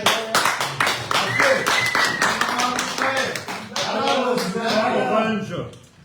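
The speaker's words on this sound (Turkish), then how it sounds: "Alkış. Alkış." Rhythmic hand clapping keeps a steady beat through a lively village night gathering in Dadaşköy, close and loud, with voices talking and singing over it throughout.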